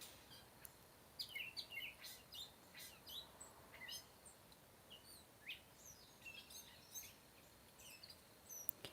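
Small birds chirp and tweet outdoors in short, scattered bursts, fairly faint and at some distance over a quiet background.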